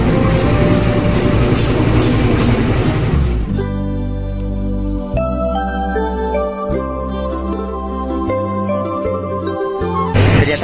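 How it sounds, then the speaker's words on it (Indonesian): The Brawijaya passenger train from Gambir to Malang pulls into track 3 at Semarang Tawang station with a loud, heavy rumble of rolling cars, then a sustained chiming station melody plays over the clattering, continuous noise. "ternyata kereta api Brawijaya dari Gambir tujuan Malang masuk di jalur 3 di stasiun Semarang Tawang"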